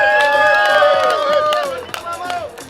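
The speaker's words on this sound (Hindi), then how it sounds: "एक बार जोरदार तालियां होनी चाहिए कम ऑन मामा जी के लिए सभी की तरफ से" Guests at a Haldi wedding ceremony cheer and clap for Titu Mama in a short, loud burst of whoops and applause, with crowd chatter mixed in.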